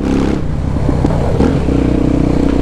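A Honda XR Tornado motorcycle fitted with a Belparts Classic exhaust runs close by with a deep, steady engine drone, broken by a few short pops and crackles from the pipe.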